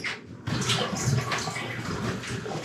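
Water being poured into a pot for mashed potatoes, a continuous splashing gush that starts abruptly and runs steadily for a couple of seconds in a kitchen.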